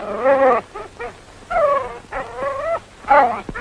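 A hound whines and yelps in a series of high, wavering cries outside a hotel, several separate bursts close by, plaintive and insistent, in a 1942 film.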